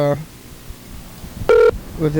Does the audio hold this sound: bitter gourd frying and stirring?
no